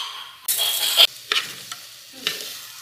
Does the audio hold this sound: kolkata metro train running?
no